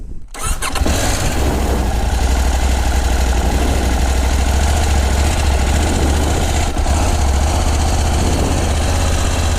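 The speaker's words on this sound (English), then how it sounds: "The tractor is struggling a bit when it's not been run for a while." A tractor engine that has sat unused cranks with some struggle and catches, then settles into a loud, steady low idle that chugs on without a break.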